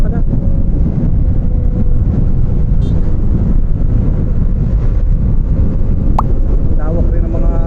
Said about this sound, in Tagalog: malamig, mahangin pala.